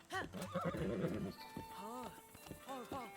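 A horse whinnies loudly with a wavering, descending call, followed by more neighs over a busy, music-like background with hoofbeats, in Zelda: Breath of the Wild on Nintendo Switch 2.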